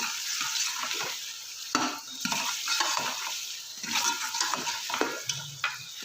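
Chicken cooking with ginger garlic paste in a pan over a medium flame, with steady frying sizzle and intermittent scraping stirs and utensil clinks against the pan, close and continuous without talk.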